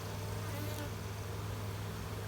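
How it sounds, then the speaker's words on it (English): A steady, dense insect buzz with a low hum from many honeybees droning together inside a hive at close range, continuous throughout. "there are a lot of bees in here."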